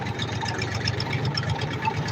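Tractor with an EM 385 diesel engine, running steadily with a throbbing, knocking low rumble, close and constant with no talk over it.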